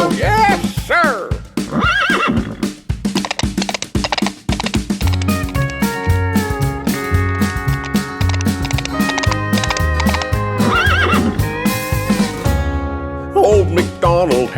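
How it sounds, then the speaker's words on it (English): A horse neighs and its hooves clip-clop on a farm in a loud, close sequence of whinnies and rhythmic hoofbeats, set against a tuneful, musical backing. "With a neigh-neigh here and a neigh-neigh there, here a neigh, there a neigh, everywhere a neigh-neigh."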